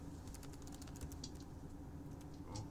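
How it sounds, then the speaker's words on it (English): Rapid typing on a computer keyboard, a close, continuous patter of clicky keystrokes with uneven rhythm over a low background hum. "What are you typing?"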